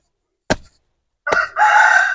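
A rooster crows loudly and close by, one long drawn-out call following a short sharp squawk a moment earlier.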